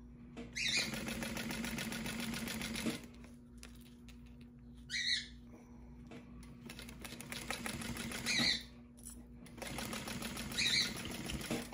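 A sewing machine fitted with a zipper foot runs in several rapid bursts of stitching through fabric, separated by short pauses, close and mechanical.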